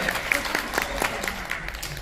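An audience in a Korean gathering claps together in practice, producing loud, evenly spaced clapping that repeats steadily over a couple of seconds, with faint voices mixed in.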